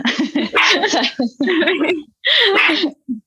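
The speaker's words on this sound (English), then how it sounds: "I have a puppy here" A puppy yipping and barking in several quick, close bursts, with a final short yelp at the end, loud and clear against a quiet indoor background.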